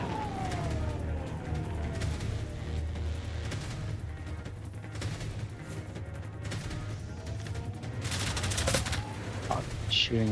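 Robot gunfire in the game Generation Zero, a busy clatter of shots over a low rumbling background, growing louder with a sharp burst near the end.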